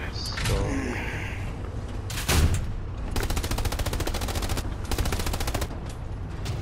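Tank gunfire in a World War II video game on the Carentan map, with a heavy blast followed by rapid mechanical bursts of fire, loud and close, with brief pauses between the volleys.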